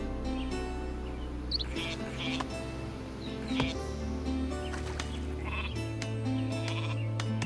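Sheep bleating in the Viking strategy game Northgard, several soft wavering bleats over a quiet ambient music bed with occasional bird chirps.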